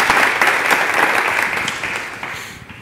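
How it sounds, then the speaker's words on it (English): Audience applause at a Chicago capstone panel event, a dense burst of clapping that rings out full at first and then tapers off over a few seconds, with no talk. "big hand of applause for Will"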